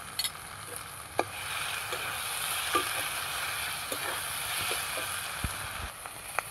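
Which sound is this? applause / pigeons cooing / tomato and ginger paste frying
tomato and ginger paste frying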